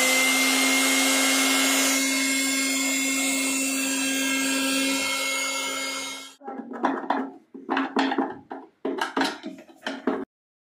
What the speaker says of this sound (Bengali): মোটরটা ঘোরা নিয়ে কথা।